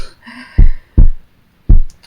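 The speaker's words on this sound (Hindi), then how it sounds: "दिल की धड़कन तेज हो रही है ना?" Heartbeat sound effect played during a stage announcement at a show naming the top YouTube daughter-in-law: deep, loud thumps arriving in two lub-dub pairs, with a faint tonal hum at the start.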